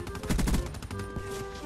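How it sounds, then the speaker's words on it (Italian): Rapid bursts of gunfire in Call of Duty: Black Ops 3 crackle in quick succession, fairly faint, with no talking. "Spari."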